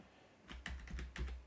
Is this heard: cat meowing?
no